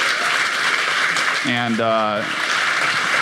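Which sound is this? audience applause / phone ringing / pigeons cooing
audience applause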